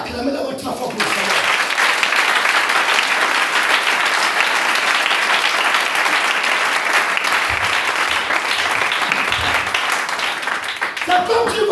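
Congregation at a church service bursting into sustained, dense applause and clapping, steady and loud for about ten seconds, with crowd voices mixed in and a preacher's voice briefly at the start and end.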